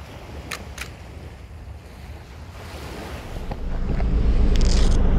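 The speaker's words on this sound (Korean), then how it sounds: "바람 엄청나게 부는구만" Strong wind gusting at sea from a boat on a cuttlefish fishing trip off Yeongmok harbor, a loud roaring rush with wave surf that swells louder toward the end, no talk.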